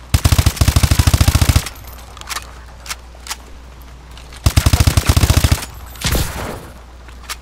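Rapid automatic gunfire rings out in Call of Duty: Advanced Warfare, two loud sustained bursts separated by scattered single shots and a lull, with a whooshing blast near the end.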